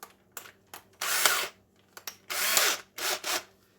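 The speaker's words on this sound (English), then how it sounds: "So what I do is I use a step drill." A step drill boring through a Newport Vessels boat battery box, several short power-tool bursts of grinding and whirring separated by pauses, close and fairly quiet.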